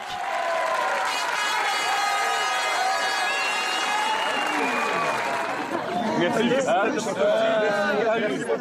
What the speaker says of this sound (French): Massés à l'extérieur, ils sont des centaines à former une haie d'honneur euphorique.